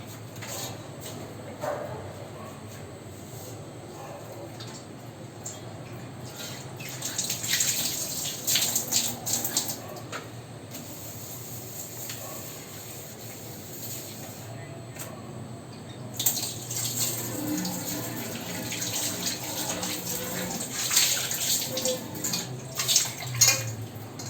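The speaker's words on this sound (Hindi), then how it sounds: "सर मैंने प्लेट धो दी है।" Tap water runs steadily while a plate is washed at a kitchen sink, with faint clinks and splashes swelling at intervals, close and fairly quiet, with no voices.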